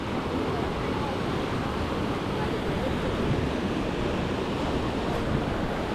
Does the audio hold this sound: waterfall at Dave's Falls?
yes